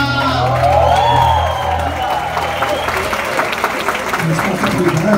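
A Brazilian samba show audience applauds and cheers for a singer on stage. There are loud claps, whoops and shouts, and a sustained held tone fades at the start as the crowd noise carries on.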